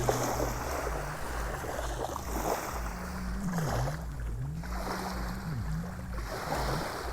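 Tiny waves lap gently on a shore at sunrise, a soft continuous wash of water with faint rhythmic swells. A low tonal hum and wobbling tones run underneath, and no one talks.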